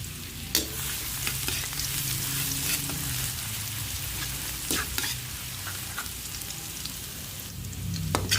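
Garlic frying in hot oil in a pan, a continuous close sizzle and crackle with occasional sharp pops and spatters, heard on its own.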